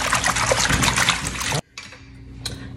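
Running water rinsing collard greens, a loud steady splashing stream that cuts off abruptly, followed by faint dripping and handling.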